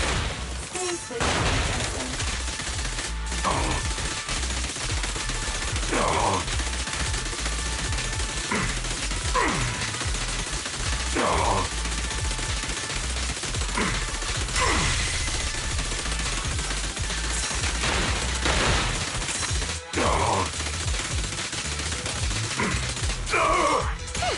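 Rapid bursts of automatic gunfire in a video game ambush, dense and continuous with repeated sharp volleys and mechanical clatter, with voices talking over the shooting throughout.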